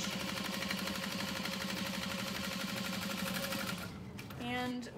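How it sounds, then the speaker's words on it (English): A sewing machine stitches along the bottom edge of a fabric satchel at a 4.5 stitch length, running in a steady fast mechanical whir close by before stopping near the end, with a brief vocal tone after. "And then sew along the bottom edge."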